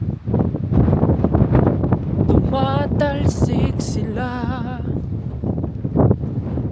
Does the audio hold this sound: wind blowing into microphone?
yes